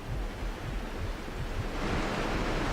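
A waterfall in Aliens versus Predator Classic 2000 roars as dense, steady rushing noise, close and constant, swelling slightly toward the end with nothing else audible.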